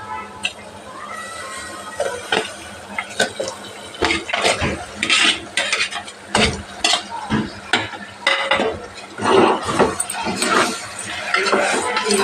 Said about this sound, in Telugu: ఇక మటన్ ముక్కలు వేసేద్దాం